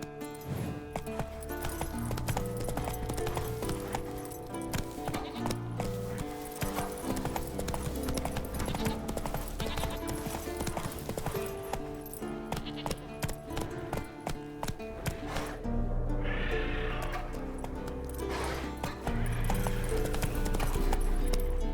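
Roach, Geralt's horse in The Witcher, runs in a fast, steady clip-clop of hooves, close and continuous, over layered game music.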